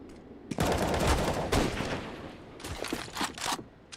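Rapid MP9 submachine gun fire in a Counter-Strike match, loud overlapping bursts from several guns, then short sporadic shots, no talk.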